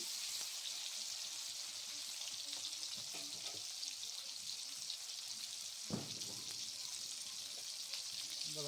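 Vegetables for chicken chowmein frying in a pan with ginger and garlic give off a soft, steady sizzle, faint and constant, with a brief clatter of stirring midway.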